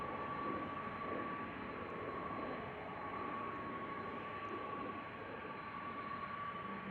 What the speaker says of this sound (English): Airbus A330 300 from Delta. Flight 179 going to Portland, Oregon.